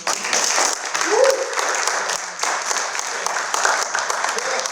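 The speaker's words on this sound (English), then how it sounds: "Let's clap for that." Conference audience breaking into steady applause, a dense wash of clapping lasting throughout with a brief voice rising over it near the start.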